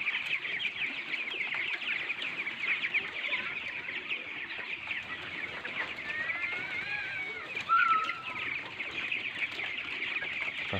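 A crowd of broiler chickens in a coop floored with rice-husk litter keeps up a dense, continuous chorus of clucks and soft calls, close and steady, with one louder squawk near the end.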